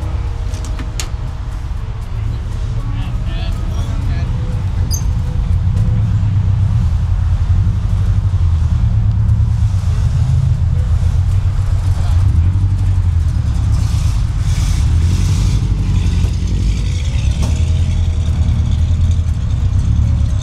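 A Mopar car engine idles and runs steadily at a car meet, a continuous low rumble close by for the whole stretch, with faint background noise over it.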